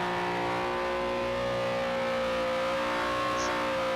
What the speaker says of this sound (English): Always a courtesy burnout before the races from Gallen.